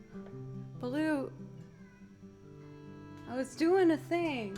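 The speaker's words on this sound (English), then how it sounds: "That's my cat." A house cat meows twice, a drawn-out cry followed after a pause by a louder double meow, close to the microphone over soft sustained background tones.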